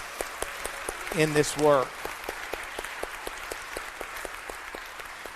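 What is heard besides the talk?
audience applause for volunteers Al and Hannah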